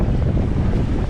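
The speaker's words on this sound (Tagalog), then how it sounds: "Tayo, paandara na makina." Fishing boat motor running out at sea over rough waves and wind, a steady loud rumbling drone with wind buffeting the microphone throughout, no talk.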